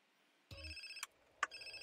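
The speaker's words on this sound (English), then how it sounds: "I will answer this phone call." A phone ringing in GTA San Andreas Definitive Edition gives a low thud and then a few bright, tonal electronic ring bursts, fairly faint and alone with no talking.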